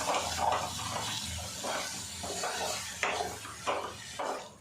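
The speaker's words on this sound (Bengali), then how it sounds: "পেঁপেটা ক্যারামেলের সাথে বেশ করে মিশিয়ে একটা ডো বানিয়ে নেব।" Papaya stirred into caramel in a pan while making papaya nadu sweets, with quiet scraping and stirring strokes in an irregular rhythm and no talking.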